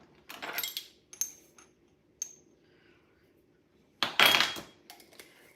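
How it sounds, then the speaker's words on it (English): Spoon clinking against a metal bowl while dried seasoning is sprinkled in: a few scattered, bright metallic taps and scrapes, some faint, with a louder clattering pair near the end, and quiet gaps between. "I keep hitting that metal bowl"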